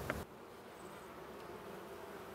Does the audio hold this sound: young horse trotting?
no